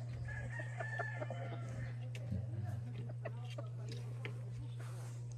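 Chickens clucking and a rooster crowing outdoors at a backyard chicken pen, with a steady low hum and people talking in the background.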